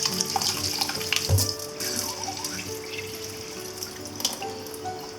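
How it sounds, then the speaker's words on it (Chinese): Anchovies are rinsed under running tap water, a steady splashing gush into a bowl with a few light knocks and drips. "我们用清水把那个粉尘冲洗一下。"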